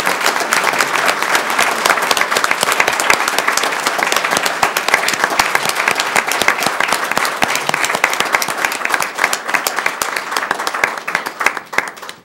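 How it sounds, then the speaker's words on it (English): Audience applause for students at a Northglenn city event, dense sustained clapping from a crowd that holds steady for about twelve seconds before thinning at the end. "Can we give all of these amazing students a round of applause?"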